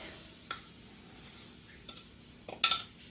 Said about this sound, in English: And give that a little stir.